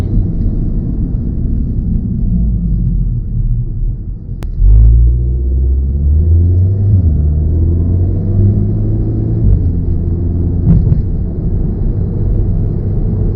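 A Volkswagen Mk7 Golf R engine idles with a deep, steady exhaust rumble, briefly rising in a rev partway through before settling back to a low drone.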